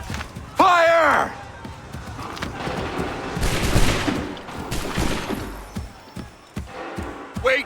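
Musket volley gunfire in the Assassin's Creed 3 video game, with a shouted command near the start, then a broad crackling burst of massed shots and lingering rumble, with another voice calling out at the end.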